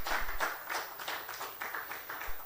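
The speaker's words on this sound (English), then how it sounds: "Give him a big round of applause" Audience at the AfriTECH2021 Africa Tech Alliance Forum applauds the Executive Vice Chairman, producing a faint, steady patter of many hands clapping in a hall for a couple of seconds.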